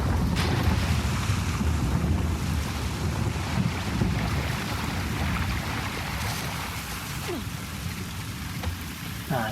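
A steady low boat engine rumble in The Last of Us Part II, mixed with wind and water wash, continuous throughout with a few faint higher whooshes.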